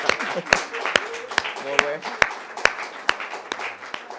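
At a public forum on domestic violence, a few hands clap in sparse, evenly spaced sharp claps for the speakers, with voices talking over them.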